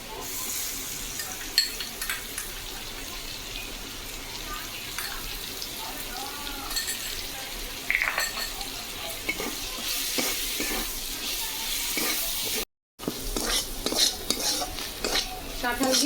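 Jackfruit seeds frying with onion-chili paste in a pan, a continuous sizzle under steady stirring and occasional scrapes and clinks of a utensil against the pan, with a brief dropout near the end.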